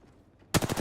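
Close, loud burst of rapid automatic gunfire in a video game shootout, starting abruptly after a quiet moment and rattling on in quick successive shots.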